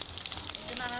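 Chili, bay leaf and panch phoron spitting in hot oil, a brief burst of bright crackling sizzle heard up close.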